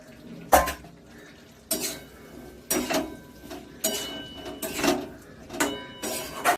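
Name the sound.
stirring cauliflower potato curry with yogurt in a pan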